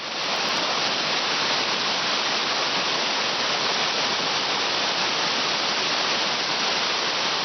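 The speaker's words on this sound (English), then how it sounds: "that's the Pine Creek Falls" Pine Creek Falls rushes in a constant, loud, close roar of falling water, steady and unbroken throughout with no voices.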